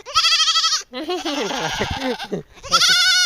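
A young goat kid bleats loudly and close by in several wavering cries, with a short pause between calls, and a person talks alongside.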